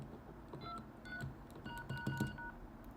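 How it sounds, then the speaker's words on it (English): A phone held up near a switchboard keyset setup sends a quick series of DTMF dialing tones, short evenly spaced beeps, fairly faint over a steady background hum. "if I hold this phone up and hold the phone near it and press some DTMF"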